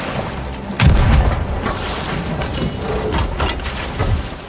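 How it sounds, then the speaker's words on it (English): A ship's cannon fires in Sea of Thieves, one deep boom near the start, then a rumbling, noisy battle soundscape carries on with splashes and clatter. "I'm hitting them with a cannon."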